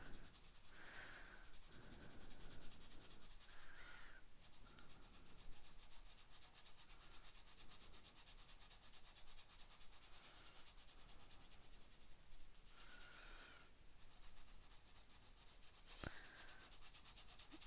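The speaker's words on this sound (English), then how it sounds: "And this pencil is needing to be sharpened." A colouring pencil is sharpened, giving faint, close scraping and rubbing strokes that repeat for the length of the clip in a quiet setting with no one talking.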